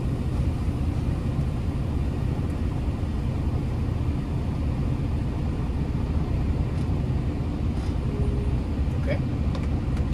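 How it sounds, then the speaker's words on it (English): A heavy truck creeps about five feet forward during an air-brake service brake check, giving a steady, close, low engine rumble that holds evenly throughout. "I'm going to press my service brake, release my spring brakes, and I'm going to go 5 feet forward without me touching the steering wheel"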